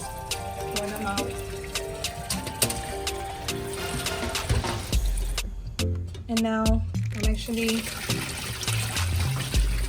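Steaming water from cooked crab drains and trickles out of a pot in an irregular, splashing stream close by, with clinks of the pot and a person talking over it.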